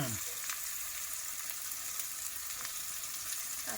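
Onion sizzling in hot oil with turmeric, a steady broadband frying hiss running close and loud throughout, with no voices over it.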